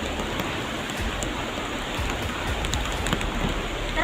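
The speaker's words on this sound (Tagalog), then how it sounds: "Tapos umuulan pa mga ka-idol." Steady, dense rain pours down outdoors as a constant loud hiss, with scattered drops spattering on nearby surfaces and no voices present.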